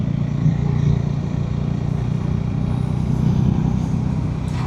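A motorcycle engine drones steadily while riding along a forest road in South Goa, loud and constant with wind rumble, no voices.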